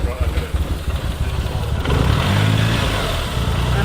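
A Suzuki Cappuccino engine idles close by with a steady, throbbing rumble that firms up slightly partway through, while people talk over it.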